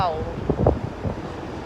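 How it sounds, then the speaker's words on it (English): Wind buffets the microphone in a steady broadband rush, with a brief voice rising out of it. "So windy."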